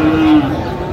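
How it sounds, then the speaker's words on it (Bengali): A Sahiwal bull calf at a cattle market gives a single short, loud, close moo lasting under half a second, with crowd noise behind it. "শাহিওয়ালের ষাঁড় বাচ্চা, বেশ সুন্দর কোয়ালিটির"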